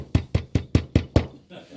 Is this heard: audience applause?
no